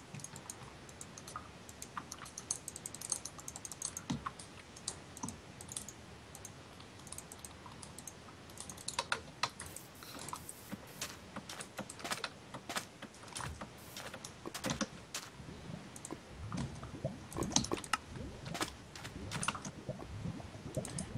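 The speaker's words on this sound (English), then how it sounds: "Why are you clicking so much?" Rapid computer keyboard typing and mouse clicking during a Minecraft Hunger Games session, with steady bursts of sharp, close clicks running throughout, denser and louder in the second half, with no speech.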